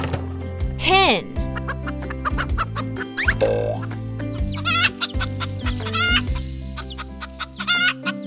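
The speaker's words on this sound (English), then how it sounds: "Hen." A hen clucks repeatedly in a farm-animal sound lesson, with a rooster-like crow early on, all over a steady music bed and close to the listener.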